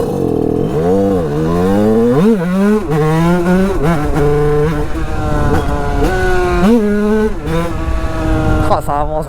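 Tuned 50cc moped engine accelerating, a loud buzzing two-stroke whine that climbs in pitch repeatedly through several rising sweeps, close to the microphone, with a rider's voice over it.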